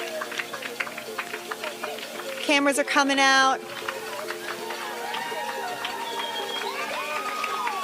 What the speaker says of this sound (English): We're hearing cowbells, claps.